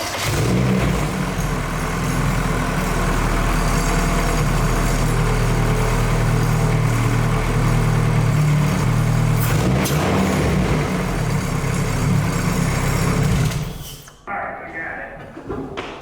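A Nissan Cefiro with a swapped K24 engine runs steadily at close range, a loud, continuous rumble that holds for about fourteen seconds before cutting off.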